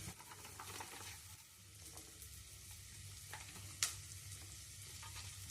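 Chopped onion frying in a pan for a Karnataka-style brown rice bisibele bath gives a steady, quiet sizzle with a low hum underneath and one brief sharp clatter.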